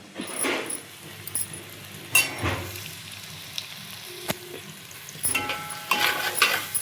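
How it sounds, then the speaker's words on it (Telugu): Broad beans (chikkudu) fry in a pan with a soft, steady sizzle, broken by a few clinks and scrapes of stirring, close and moderately loud with no talking. "దీన్ని కొంచెం వేగనిద్దాము"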